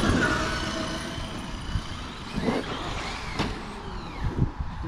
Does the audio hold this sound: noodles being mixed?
no